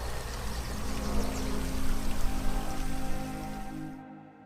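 River water flowing along a jungle river's edge in the Congo, a close, steady rushing and splashing wash that swells in the middle and fades out at the end.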